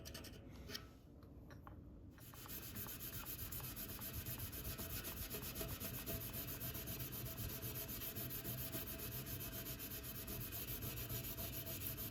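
A cloth rubs polish onto a freshly buffed part from a Peugeot PX-10 bicycle under restoration, giving a faint, continuous, even rubbing hiss. The rubbing starts after a few light ticks and goes on without talk.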